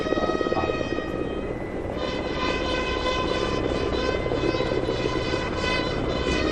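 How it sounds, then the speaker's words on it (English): Three Indian Air Force Mi-17 V5 helicopters fly in formation at an Air Force Day parade, a steady loud rotor and engine drone with a sustained high whine, continuous throughout. "the ensign formation flying in, comprising 3 Mi-17 V5 helicopters of 152 helicopter unit"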